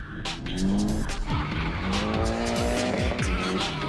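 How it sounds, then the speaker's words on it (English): A Subaru WRC 98 World Rally Car replica with 4-stud wheels is driven hard, its engine revving and tires squealing continuously in long, loud, sliding wails. "This is my Subaru WRC 98 World Rally Car replica."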